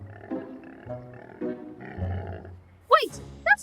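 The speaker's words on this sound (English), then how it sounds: "That's the sound of a sick dino." A cartoon sick stegosaurus makes low, drawn-out groans and grunts that repeat several times, followed by two sharp high squeals near the end.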